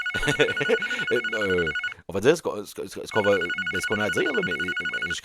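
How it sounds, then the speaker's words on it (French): A telephone rings in repeated electronic bursts under a man's French-speaking voice, the ring pausing briefly before starting again while he keeps talking. "Le téléphone sonne encore."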